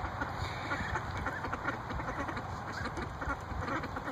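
Ducks quacking repeatedly and busily nearby, a continuous chorus of overlapping calls with no talking.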